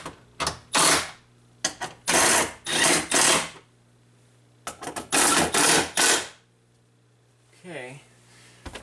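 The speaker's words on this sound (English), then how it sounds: "Alright, let's bolt this thing back up." A power driver spins bolts in to refit the rear wiper motor on a Subaru. It gives repeated short whirring bursts in two clusters, close and fairly loud, and a voice speaks briefly near the end.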